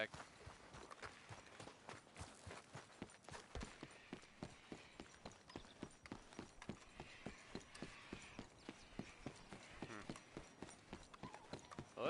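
Horse hooves clip-clop in a steady, fast trotting rhythm in Red Dead Redemption 2, close and continuous with faint mechanical rattles mixed in.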